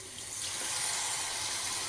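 Tamarind water pours into a pan for a bitter gourd gravy, a steady soft rushing splash rising slightly and continuing without break.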